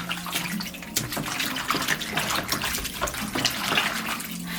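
Water gushes steadily from a tap, splashing and running continuously as a beauty blender makeup sponge is soaked, loud and close throughout with no talking.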